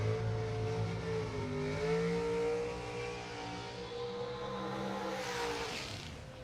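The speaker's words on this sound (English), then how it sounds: "That is a fairly long burnout for Eric Anders, likely under instruction from the team." A drag racing car holds a long burnout at the 2021 New England Nationals, a loud, steady engine roar with rising and falling pitch that keeps going for several seconds before thinning out near the end.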